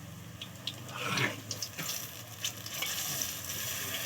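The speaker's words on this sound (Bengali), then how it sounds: "দেখো বন্ধুরা কত সুন্দরভাবে ভাজছি" Bottle gourd leaf fritters fry in a pan with a soft, steady sizzle, joined by a few scraping and clinking touches of a spatula pressing them down, close and fairly quiet.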